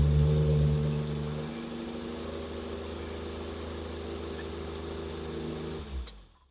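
A 1963 Alpine Renault 1300S breathing through Weber carburettors idles close by, loud at first, then settling into an even burble before a short blip and cut-off at the end.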